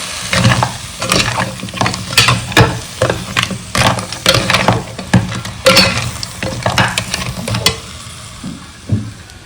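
Crab masala sizzling in a hot pan while being stirred with a spoon, loud frying hiss broken by rapid, rhythmic scraping strokes that continue steadily before slowing near the end.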